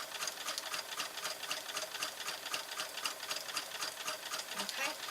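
A sewing machine stitches fabric with elastic thread to gather it, giving a steady, fast mechanical whir and rapid needle clatter that runs continuously at moderate volume with no voices.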